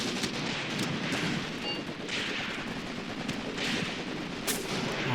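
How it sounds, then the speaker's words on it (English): Sustained gunfire from the Graviteam Tactics: Mius Front war game, with dense overlapping shots and bursts rolling on continuously at a fairly steady loudness, with no voices. "Keep shooting."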